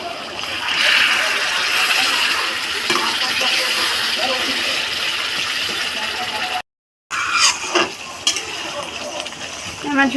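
Bengali koi fish curry sizzles and splatters as broth is poured over spiced fish in a hot pan, with stirring and spoon scrapes close by, a brief dropout, then continued crackling bubbling.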